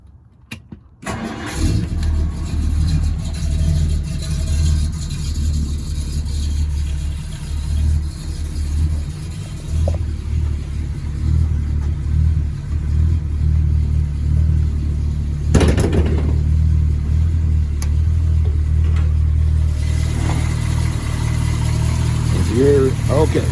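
A car engine cranks and catches, then settles into a steady low idle rumble that continues throughout, with a brief burst of noise partway through.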